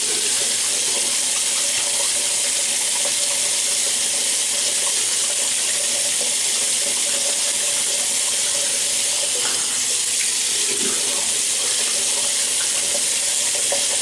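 Tap water runs steadily into a sink for wetting the face before a shave, a constant close hiss and splash with small shifts as the stream is disturbed.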